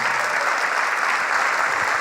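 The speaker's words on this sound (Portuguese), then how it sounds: "Vamos aplaudir mais ao nome de Jesus." Congregation at a church service applauding in praise of Jesus, a dense, steady wash of clapping from a large crowd heard alone for a couple of seconds.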